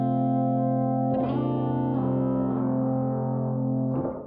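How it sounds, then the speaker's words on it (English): A sustained, heavily fuzzed electric guitar with a thick, organ-like tone from a gold foil pickup through compressors, fuzzes and EQ, notes held and shifting over a few seconds. "we've got like a real organy sound from the Sub Pro going through our compressors and fuzzes and EQs"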